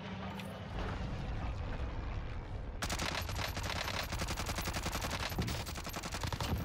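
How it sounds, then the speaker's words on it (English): Krig 6 rifle fire in a video game, a steady rapid stream of loud automatic shots that turns even denser and harsher partway through, with no speech. "We don't stop shooting over here."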